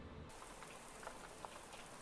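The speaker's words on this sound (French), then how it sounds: "il commence à pleuvoir chez moi" Rain begins falling outside a house at night, a soft, steady patter of drops hitting surfaces with a few slightly louder taps, faint and distant, with no voices.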